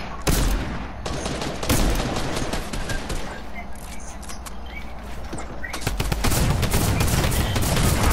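Shotgun blasts in the Fortnite video game: a few sharp, loud bursts, one near the start, another around the two-second mark and a heavier cluster later, over continuous game noise, with a player's voice talking at times.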